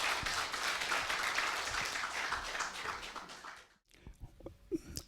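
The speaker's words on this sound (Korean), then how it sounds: "큰 환영의 박수 부탁드립니다" Audience applause at a Korean tea culture symposium welcomes a speaker to the podium: sustained clapping that fades out after nearly four seconds, leaving quiet room noise and a few scattered sounds.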